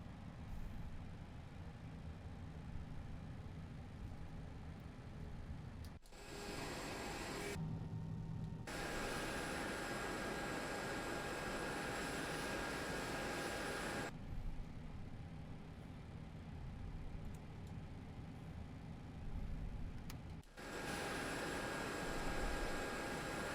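FSLabs A320 engines running in the Prepar3D flight simulator: a constant, broad jet roar and whine that fills the whole clip, broken by a few short abrupt cutouts.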